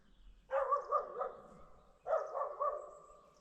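An excited dog barks in two short bursts of rapid, yelping barks, close and clear against a quiet background with a pause between them.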